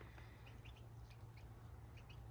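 A bird calls outdoors in a garden, giving faint, short chirps scattered over a steady low background hum.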